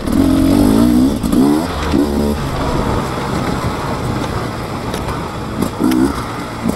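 A 2024 Beta 300 RR two-stroke dirt bike revs up with a raspy, rising engine note, then settles into a steady, rough drone as the rider rolls on the throttle, close and fairly loud.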